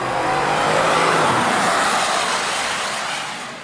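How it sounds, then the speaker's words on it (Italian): The 2022 Range Rover's twin-turbo V8 petrol engine roars under hard acceleration, a loud, close, broadband surge that holds steady and then fades slightly at the end, with no voices. "E infatti noi oggi la guidiamo in una versione V8. 8 cilindri a V, biturbo, benzina."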